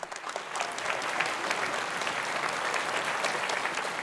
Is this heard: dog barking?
no